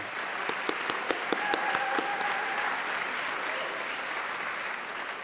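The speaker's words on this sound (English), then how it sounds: "please join me in another round of applause for John McDonald." An audience at a university commencement ceremony for film, media, music, theater and dance graduates gives a round of applause. A few sharp, distinct claps come first, then a sustained, even crowd clapping that fills the hall.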